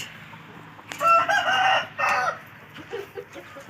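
Roosters crow and hens cluck inside a breeding coop housing parent-stock chickens on a Thai farm, two loud overlapping crows rising in succession with scattered softer clucks and calls afterward, close by and without talk.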